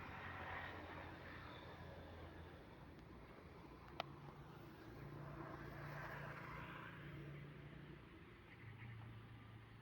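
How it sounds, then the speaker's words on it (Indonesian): A departing airliner climbing out from SMB II airport, a steady distant jet-engine roar with a low hum that swells and fades slightly, continuous throughout with no voices. "Lagi ada pesawat juga yang berangkat."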